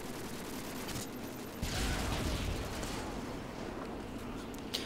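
MP5K submachine gun fire in Modern Warfare 2, in team deathmatch on the Highrise map: a steady rattling burst runs throughout, fairly quiet, with a louder surge near the middle, amid game noise and no talking.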